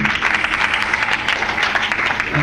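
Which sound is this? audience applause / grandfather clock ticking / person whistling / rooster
audience applause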